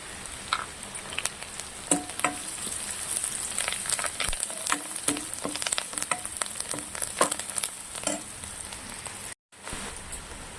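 Curry leaves hit hot oil in a pan for tomato rasam, crackling in a steady, dense sizzle with scattered sharp pops and spatters, close and fairly quiet, with a brief cut near the end.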